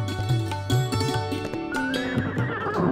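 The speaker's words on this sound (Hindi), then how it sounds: "कैसा लग रहा वीर घोड़े पर?" A horse whinnies in a radio drama production, up close and loud over a busy layer of background music, with no voices speaking.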